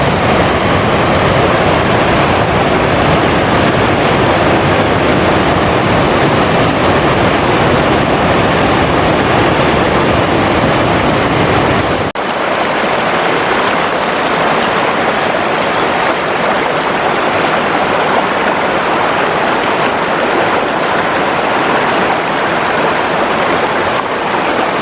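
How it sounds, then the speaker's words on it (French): A mountain waterfall near Lac d'Estom above Cauterets pours in a steady, loud, broadband roar that stays constant throughout, with no voices, though the tone shifts slightly partway as if the listening position changes. "Sacrée cascade là, hein."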